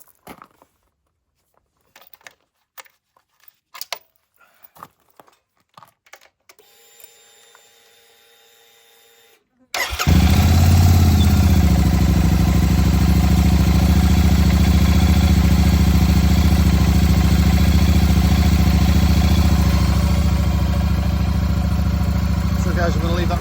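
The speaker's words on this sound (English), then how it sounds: "Right, I'm going to start it up and we'll see what happens." Royal Enfield Super Meteor motorcycle with a modified air filter, first some scattered clicks and handling noises, then the engine fires at once and settles into a loud, steady idle that runs unbroken to the end.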